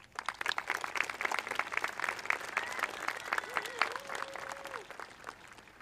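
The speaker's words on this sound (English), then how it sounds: "Please join me in recognizing these students with a round of applause." An audience at a school promotion ceremony gives students a round of applause. Many crisp, quick claps build into a lively, sustained ovation, with faint voices rising now and then beneath it.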